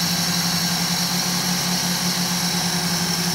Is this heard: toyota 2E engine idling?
yes